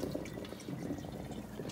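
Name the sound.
draining pasta water out of a colander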